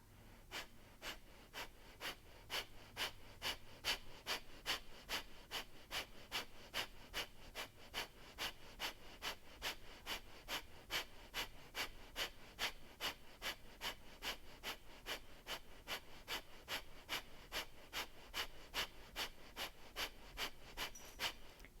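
Rhythmic, forceful breathing during a guided belly-pumping exercise, with quick regular breaths repeating steadily for the whole stretch, close and fairly quiet.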